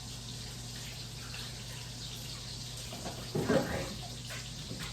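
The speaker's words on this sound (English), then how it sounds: "Let's wash my hands real quick." Running tap water at a sink while someone washes their hands after mixing food by hand, a steady low wash with a brief louder splash partway through and a short spoken remark.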